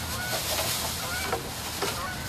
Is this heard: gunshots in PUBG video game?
no